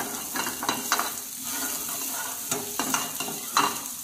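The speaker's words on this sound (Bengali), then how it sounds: "তো আমরা সতে করে নিচ্ছি, গার্লিক চপ দেবেন।" Chopped garlic and onion sizzle in a hot pan during sautéing, a steady bright frying hiss broken by repeated scrapes and stirs of a utensil, close and continuous without speech.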